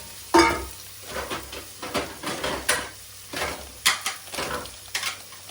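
Onions stir-fry in an iron wok with repeated scraping strokes of a spatula against the metal, and a steady sizzle runs beneath them at close range, loud and uneven in rhythm.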